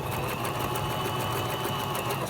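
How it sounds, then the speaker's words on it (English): Sewing machine back stitching over the top of a zipper, a steady rapid mechanical whir running without break throughout, close and fairly loud. "And back stitch up at the top."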